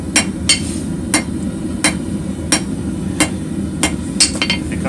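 A blacksmith hammers a short taper on the point of a workpiece on an anvil, sharp ringing blows landing about every half second or so, roughly eight strikes over a low steady background hum.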